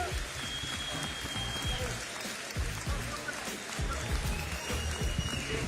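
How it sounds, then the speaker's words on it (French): Crowd at a boxing bout between Bakary Samake and Ahmed El Moussaoui applauds the two fighters, a steady, dense wash of clapping that sounds fairly distant and soft, with faint voices mixed in. "j'aimerais un tonnerre d'applaudissements pour ces boxeurs"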